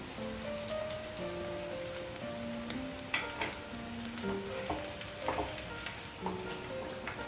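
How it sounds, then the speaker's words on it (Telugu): Chicken 65 pieces deep-frying in hot oil for a second batch, a steady close sizzle with scattered pops and crackles, some faint tonal kitchen sounds underneath and no speech. "ఇప్పుడు మనం ఇంకో ట్రిప్ వేసుకుందాం."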